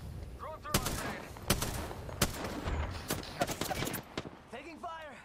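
Gunfire in the battle royale game Apex Legends, sharp separate shots fired in an uneven rhythm at mid distance, with short bursts clustering toward the end and a faint voice underneath.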